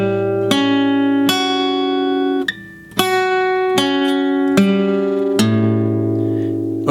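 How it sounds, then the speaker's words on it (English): A guitar chord is broken into single notes, one finger at a time, rising and then falling. Clear plucked notes ring out one after another and sustain, each building on the last, with a brief pause near the middle and no talking. "we're going to break the chord apart, arpeggiate it, but in a very specific way"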